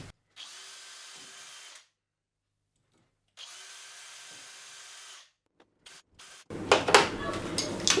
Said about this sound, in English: I'll try an even smaller drill bit and see how I go